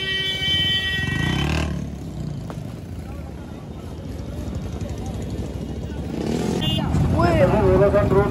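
Motorcycles idle in a traffic jam on a hill road, a steady mixed engine drone under a voice giving loud instructions, with other voices and a horn-like tone at the start.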